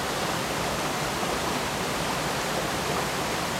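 A small waterfall pours over rocks beside a rocky seashore, giving a steady, close, full rush of splashing water that runs unbroken from start to finish with no voices.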